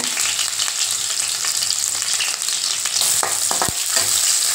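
Mustard seeds, green chili and crushed garlic sizzle in hot oil, a dense continuous frying hiss with a few sharp pops and crackles near the end, no talking.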